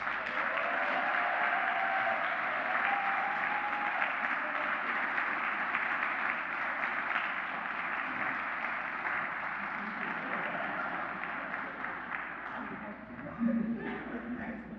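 A lecture audience at the Westminster University MLK Bastian Lecture applauds to welcome a speaker, a sustained, moderately loud wash of clapping that gradually thins toward the end, with brief voices and cheers near the close.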